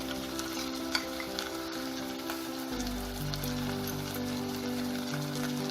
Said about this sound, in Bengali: এতে আমি 2 টেবিল স্পুনের মতো আদা, রসুন আর কাঁচা লঙ্কার পেস্ট অ্যাড করে দিলাম।